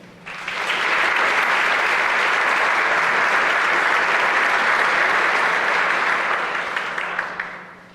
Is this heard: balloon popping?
no